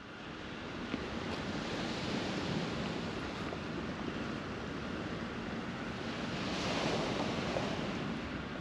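Waves wash onto a beach in Piraeus, Greece. The surf makes a steady, broad hiss with light wind buffeting the microphone, and no voices are heard.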